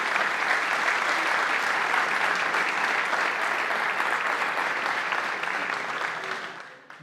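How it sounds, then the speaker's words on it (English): Audience applause at a basketball award ceremony, a dense, loud sustained clapping from a large crowd that holds steady and then fades out toward the end. "Big round of applause."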